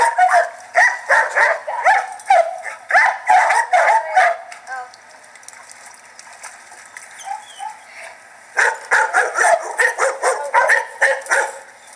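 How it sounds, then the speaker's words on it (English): Several dogs bark in ranch kennels, a dense run of overlapping barks and yips that drops away for a few seconds, then bursts back in loudly near the end. "there's some dog kennels over there that have dog houses in"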